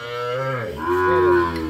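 A calf at a cattle market gives one close, loud moo that dips and rises again within about two seconds.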